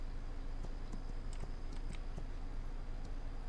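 Horse hooves clip-clop at an easy walk in a western-themed video game, a steady run of light, fairly close hoof taps over a constant ambient bed with no talk.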